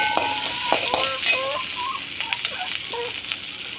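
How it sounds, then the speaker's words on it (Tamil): Onions sautéing in a pan for a potato and meal maker chapati curry, a steady broadband sizzle with faint scraping stirs, while birds chirp in the background throughout. "நல்லா வதங்கட்டும்."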